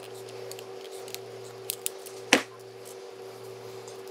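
A 3-inch number two shotgun shell is cut open in one sharp, loud snip after a couple of faint clicks, close up over a steady low hum.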